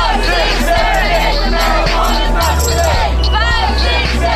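A crowd of thousands gathers on Broadway in Manhattan for a cannabis demonstration, filling the air with a loud, steady wash of overlapping voices and shouts, with a low rumble beneath throughout.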